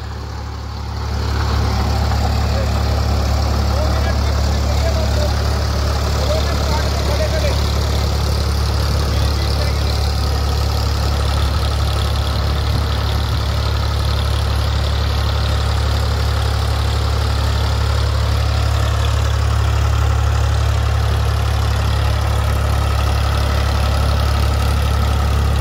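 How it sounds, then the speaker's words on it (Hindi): A Ford 3600 tractor driving a rotavator gives a loud, steady low engine drone with a strong deep hum, running evenly for the whole stretch with no talk over it. "भाइयों जुताई कर ली है और देखो जी रूटावेटर बहुत अच्छे तरीके से चलाया ट्रैक्टर ने।"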